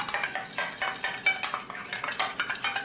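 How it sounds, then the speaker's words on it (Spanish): A lemon juice salad dressing whisked in a bowl, with a steady run of quick, sharp utensil strokes repeating every fraction of a second, fairly loud and close, with no voices. "un chorrito de limón, ya, y simplemente esto lo echamos a batir"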